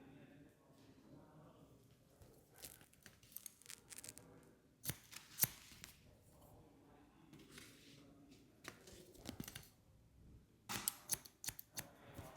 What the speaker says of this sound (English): I'll be cutting with scissors.